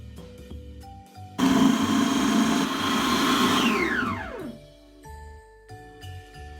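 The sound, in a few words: food processor running with gingerbread mixture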